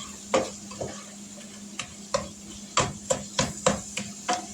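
Ground meat and diced onions stirred and fried in a pan, a low steady sizzle broken by a series of rhythmic utensil scrapes and knocks, picking up pace toward the end.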